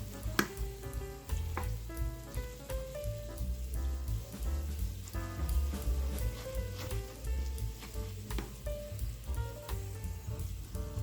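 Oil frying in an electric multi-purpose pot, giving a steady close sizzle and crackle with scattered sharp pops throughout, no talking.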